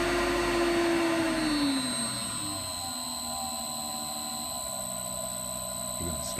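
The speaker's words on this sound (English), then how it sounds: "This is actual final drive on the drive heads of the floor grinder, 200 RPM." A floor grinder motor run from a variable frequency drive spins its drive heads up to about 1001 RPM. The rising whine sweeps upward at the start and then settles into a loud, steady mechanical drone.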